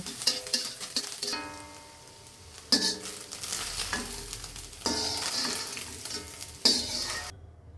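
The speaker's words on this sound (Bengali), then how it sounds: "তো আমার ডিম ঝুড়ি ঝুড়ি করা হয়ে গেছে এবার আমি ডিম ভাজিগুলোকে উঠিয়ে নিব" Scrambled egg fries in a pan as a spatula stirs and scrapes, a close steady sizzle broken by several sharp metal clinks against the pan, with no talking.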